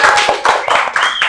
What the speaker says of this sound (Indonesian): Kita tepuk tangan untuk Samojang.